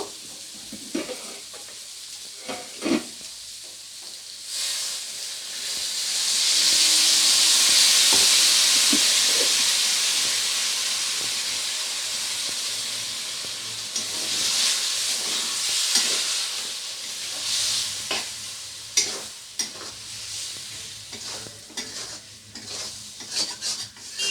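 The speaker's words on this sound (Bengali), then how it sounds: "টমেটো কুচিটা দেওয়ার পরে এখানে সামান্য একটু জল দিয়ে টমেটোটাকে ভালো করে সিদ্ধ হতে দেব" Chopped tomato cooks with a splash of water in a pan for egg biryani, giving a steady hiss and sizzle that swells in the middle, with intermittent stirring and scraping sounds close by.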